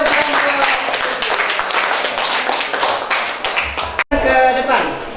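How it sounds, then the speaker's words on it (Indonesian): Classroom applause for a student group after their presentation: dense, steady clapping fills about four seconds, then cuts out abruptly as a voice begins talking. "tepuk tangan untuk kelompok"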